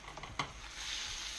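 A salmon fillet is turned over in a hot pan, with a scraping clack as it lands, then a steady, moderately quiet sizzle of frying that continues alone.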